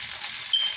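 Rice cakes fry in too much grease in a pan, giving a steady, soft hiss and sizzle that holds up close without pause, with one short beep-like tone partway through.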